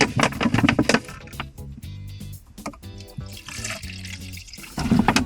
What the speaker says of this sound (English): fill up your shaker with some fresh water